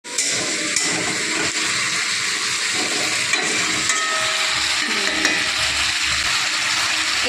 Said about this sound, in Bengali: আলুটা ভালো করে কষাতে থাকবে